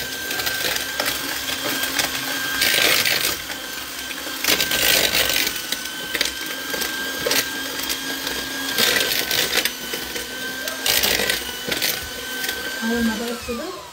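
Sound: electric mixer beating cake batter with butter

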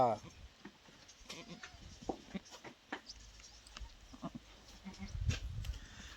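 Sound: goat bleating

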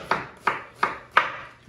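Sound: knife chopping onions

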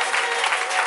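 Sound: congregation applauding and acclaiming Jesus

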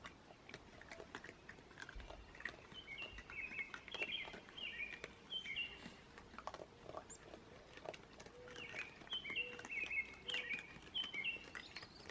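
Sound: birds singing in the early morning

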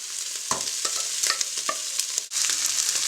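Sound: stirring basmati rice into minced meat in a pan

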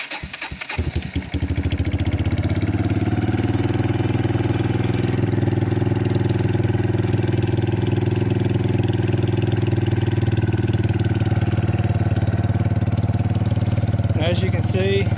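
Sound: Kawasaki Bayou ATV engine idling

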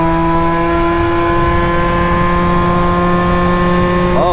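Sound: moped with Minarelli engine revving

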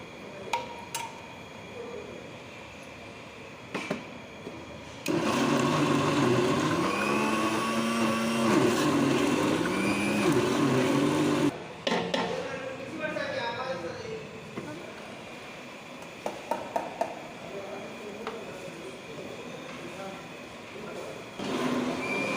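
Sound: mixer grinder grinding cooked vegetables for pickle

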